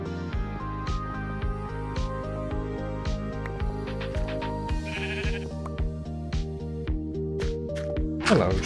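Sheep in a video game bleat several times in a row over steady game music, with the calls loud and close.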